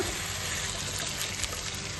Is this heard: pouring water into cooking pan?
yes